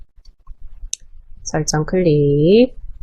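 Mouse clicks on the Windows Start menu and Settings: a few sharp, isolated clicks in quiet, followed by a person speaking Korean.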